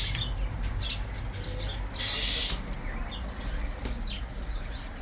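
Caged birds at the UzZoo bird market give scattered chirps and calls over a steady low background hum, with one louder burst of calling near the middle.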